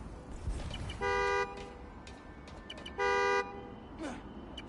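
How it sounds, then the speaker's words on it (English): Two loud car horn honks in the video game Spider-Man: Miles Morales, each about half a second, separated by a pause, over a low background rumble with faint voices. "The more annoying the horn gets"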